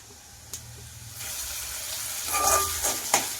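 Ground paste tipped into garlic frying in hot oil, giving a soft sizzle that swells after a couple of quiet seconds, with a few sharp spits and clinks and moderately loud crackling near the end.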